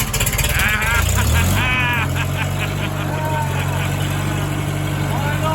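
Farmall H tractor engine firing up after repair, a rough sputtering start that settles into a loud, steady low idle close by, with people talking over it.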